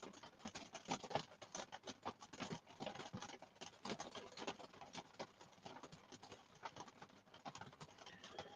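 Rain falls outside during a storm, a faint, irregular patter of drops tapping a surface with uneven rhythm, heard from indoors without talk.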